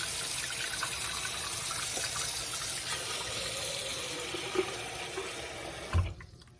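Hands scrunch and rinse rice in a bowl of water. Steady, fairly quiet sloshing and running water continues throughout, with a soft clunk near the end.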